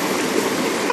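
Waterfall on Gunung Belumut, a constant close rushing roar of falling water, loud and unbroken.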